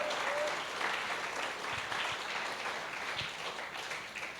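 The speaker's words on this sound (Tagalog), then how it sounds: "Para kay Lord yung palakpak na yan" A church congregation claps for the Lord during a sermon, a steady, dense wash of applause that stays even and fairly loud from start to finish without pause.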